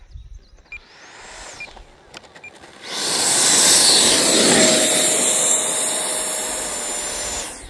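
A Freewing J10A 90mm electric ducted-fan RC jet flying in to land, its faint whine growing into a loud, steady rushing roar as it passes close overhead and holds near.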